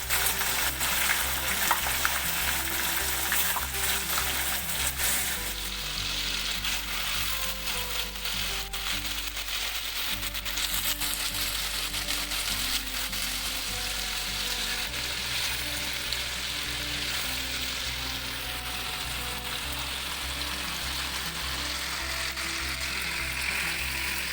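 Meat, chicken for a restaurant-style korma, frying in a pot with ginger paste gives a loud, steady sizzle and crackle that continues throughout without pause, with no voices.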